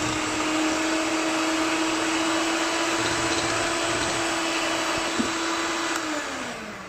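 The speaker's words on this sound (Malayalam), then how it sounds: "ഇതിനി നമുക്ക് നന്നായിട്ട് ബീറ്റ് ചെയ്തെടുക്കാം" An electric mixer beats powdered sugar for cake icing with a steady, even motor whir that runs unbroken and close up, easing off slightly at the end, with no talk over it.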